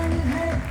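An audience claps at an awards ceremony, where a trust from Adipur, Kutch is being honoured. The applause is steady and mid-distance, and a voice is mixed in.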